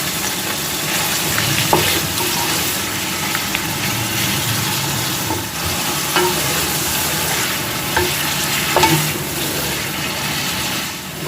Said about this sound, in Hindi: गोश्त को हम भून लेंगे जब तक इसका कलर चेंज नहीं हो जाता